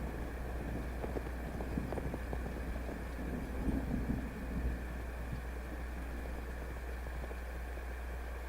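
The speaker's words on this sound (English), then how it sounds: "I'm taking my horse home." A horse's hooves clip-clop at a steady walking pace in Cowboy Life Simulator. The beats are soft, set under a constant wind-like hum.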